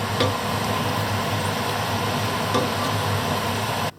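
Meatballs jardiniere are stirred in a pan, giving a steady, dense sizzle with faint scraping throughout that cuts off abruptly at the end.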